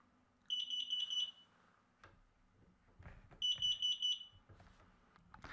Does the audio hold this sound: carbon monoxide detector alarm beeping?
yes